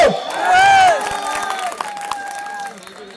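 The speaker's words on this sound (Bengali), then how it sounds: "সেই মানুষগুলোর জন্য জোরে এবার হাততালি হোক" A crowd at a stage event claps and cheers. A loud shout-like burst opens it, then a sustained wash of applause follows.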